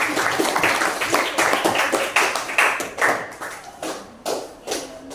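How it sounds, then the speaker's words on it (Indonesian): Classmates clap for presenting friends in a classroom, quick uneven claps in loose bursts at moderate distance, thinning out and turning sporadic toward the end. "tepuk tangan buat teman-teman"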